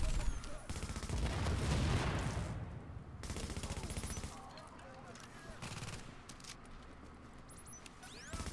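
Gunfire while shooting enemies in the video game The Division, rapid automatic bursts crackling loudly at first and then sporadic shots further off, with a voice talking over it.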